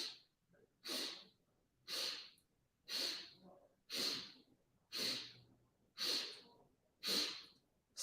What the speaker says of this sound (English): Inhale for 8 sniffs.